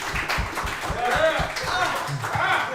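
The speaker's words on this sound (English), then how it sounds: "Can we please give Carson a round of applause for Fairfield?" Applause for a lacrosse player committing to Fairfield, with scattered hand claps under a busy room of people talking and a little laughter, moderately quiet and mixed in with the chatter.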